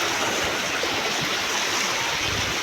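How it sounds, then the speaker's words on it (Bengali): Floodwater rushes after heavy rain in Bankura, a steady, loud, continuous roar of churning water with no pauses, heard up close without talk. "জলের ফোর্সটা দেখো একবার, টেনে নিয়ে চলে যাচ্ছে, সব ডুবে গেছে একদম।"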